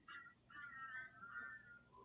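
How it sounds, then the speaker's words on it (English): Birds calling outdoors at night, a few thin whistled chirps rising and falling over a quiet background, faint and somewhat distant. "Oh, that bird's noisy tonight."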